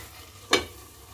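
Yogurt and spices frying in a covered pan while making onion sabzi: a single short burst of sizzling and stirring rises sharply and fades within a moment, with no talk.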